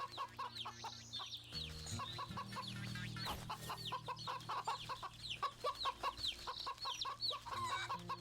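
A rooster in the video game Wytchwood clucks in rapid, repeated bursts over soft game music, close and clear.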